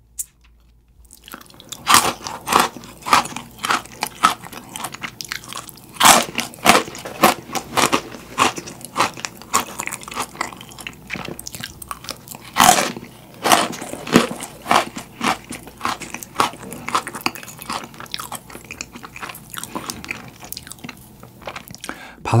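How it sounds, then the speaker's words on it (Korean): Crunchy bites and chewing of freeze-dried space mint chocolate chip ice cream, close and loud, with irregular crackling crunches throughout and no talk. "민트 초콜릿 칩 아이스크림을 먹어보겠습니다"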